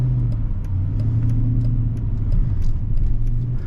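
Mercedes CLK 55 AMG coupé with a 370 horsepower V8 cruising at normal speed, a steady low engine drone and road rumble from inside the cabin, smooth and fairly quiet with no talking.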